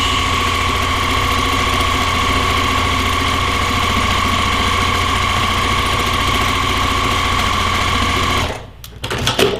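A sewing machine runs steadily for over eight seconds, stitching border fabric onto a cross-stitch pillow at a slightly longer stitch length, a loud, even mechanical whir that stops abruptly near the end, followed by brief handling clatter.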